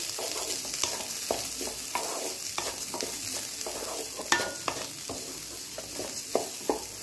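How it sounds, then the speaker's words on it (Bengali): Rice being fried in ghee in a pan: a steady, close hiss of sizzling fat, broken by regular scraping stir strokes roughly every half second, with no voices. "চালটা আমি একটু ঘি নিয়ে চালটা ঘি দিয়ে একটু ভেজে নেব"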